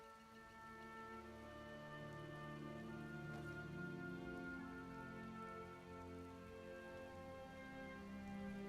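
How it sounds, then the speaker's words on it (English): Steady rain in a video game patters continuously on surfaces, with a low hum beneath it, fairly quiet and even throughout. "Looks like rain."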